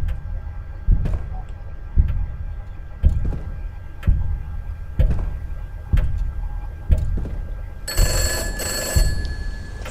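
A telephone rings repeatedly in the Roblox horror game Confined, with a loud low ring pulsing about once a second over a steady hum, joined by a brighter electronic chiming tone near the end.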